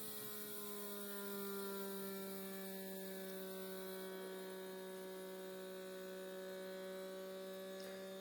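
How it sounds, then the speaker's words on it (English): A small Wevac vacuum sealer pulls a vacuum on a jar lid, producing a steady, even electric motor hum that holds its pitch, faint and close, with no voices. "this is just a small vacuum sealer from Wevac"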